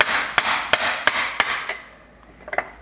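Hammer tapping out link pin bolts from a VW Beetle front beam: five sharp metallic strikes at an even pace, each ringing briefly, then a pause and two fainter taps at the end.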